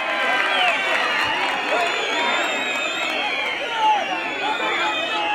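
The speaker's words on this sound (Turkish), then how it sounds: "Büyük bir alkış alalım. Alkış alıyoruz." A crowd at a 2007 outdoor folk concert claps and cheers, a dense continuous wash of applause and voices with music or a singer audible over it.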